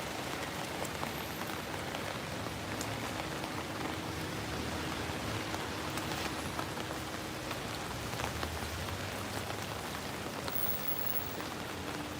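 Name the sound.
rain in St Petersburg, Russia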